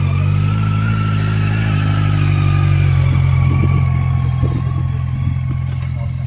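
A motorcycle engine idles and revs loudly at close range at Motofest, a deep steady rumble with throttle swells and background crowd noise.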